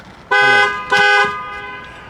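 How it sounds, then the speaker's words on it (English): Two loud, close car horn honks from a BMW X5 E70, the first held about a third of a second longer, followed by a quieter lingering tail. "You gonna honk."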